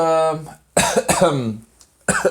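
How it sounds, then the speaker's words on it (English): Several harsh coughs in quick bursts, close and loud, separated by brief pauses, with no speech. "I'm still having a little cough."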